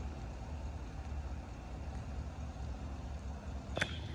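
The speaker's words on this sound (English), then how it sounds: "I hear a car. You hear the car?" A car rumbles faintly past at a distance on a quiet neighborhood street in Michigan in autumn, a low steady drone ending with a brief sharp click.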